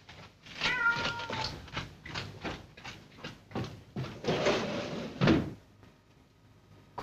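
A cat meows several times in short, uneven calls, fairly close, amid faint household knocks and rustling, with no talk.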